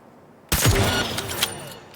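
A single sharp gunshot rings out in the first-person shooter Cyberpunk 2077, hitting hard and then trailing into a noisy, ringing tail with a few smaller clanks and impacts over about a second and a half.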